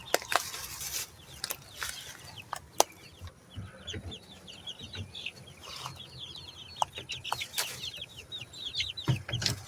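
Chickens cluck steadily and murmur together in a garden in Deep South Texas, a busy chorus of short repeated calls with scattered taps and scratches, fairly faint and close.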